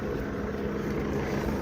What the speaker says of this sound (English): There goes a news helicopter.